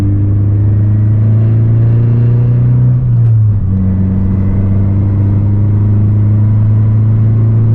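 Tuned 2018 Honda Civic Si sedan with a catless downpipe, its engine holding a loud steady drone, dipping briefly around the middle and then climbing back to a strong steady pitch, heard alone.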